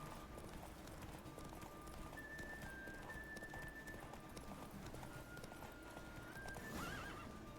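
Horse hooves clip-clop steadily through a race in The Witcher 3, a continuous galloping patter with a faint whinny near the end, heard over game ambience and without talking.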